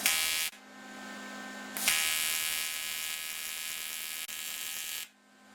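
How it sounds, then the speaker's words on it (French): An aluminium mountain bike frame is tack welded, giving loud, steady electric buzzing bursts that stop and restart several times, heard up close with no talking. "La phase suivante consiste à réaliser 4 points de soudure"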